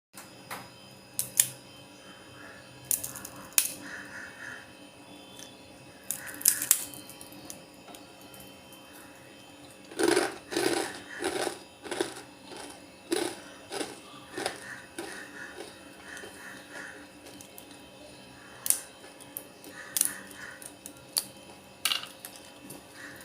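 Crispy fried murukku snapped apart by hand, heard as scattered sharp, dry cracks and crunches in short clusters, loudest in a burst near the middle, with quiet pauses between.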